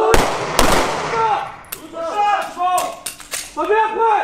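Gunshots ring out at handgun shooting practice with gendarmes, two sharp loud cracks at the start followed by several fainter reports, with voices talking and shouting between them.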